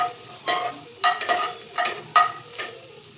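Onions frying in a pan for a tomato chutney, with a steady sizzle broken by about six loud, rhythmic stirring scrapes of a spatula against the pan, close up.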